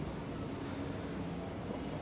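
A moving train rumbles continuously with dense, steady broadband noise, heard from inside the carriage with no talk.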